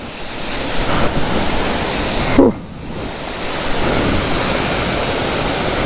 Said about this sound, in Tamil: நம்ம உலகத்தில் இந்த மாதிரி ஒரு வாட்டர் ஃபால்ஸ் இருக்குல்ல